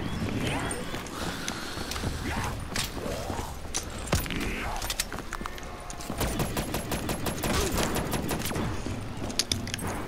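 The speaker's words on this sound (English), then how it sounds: "Thank God I have a fucking light machine gun." Rapid bursts of light machine gun fire in the Black Ops 3 Zombies mode Shadows of Evil, dense repeated shots with game sounds and someone talking over it.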